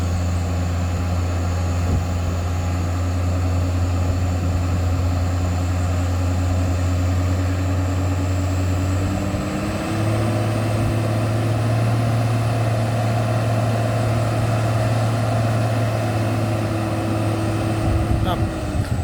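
Steady low engine drone of a container-hauling trailer truck straining on a steep incline, its pitch rising and holding at about the midpoint, nearby and continuous with talk over it.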